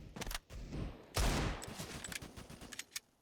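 Rapid bursts of gunfire from a Counter-Strike match on the Anubis map during a professional esports playoff, several sharp shots clustered mid-clip with a loud impact at one point, alongside other distant shots.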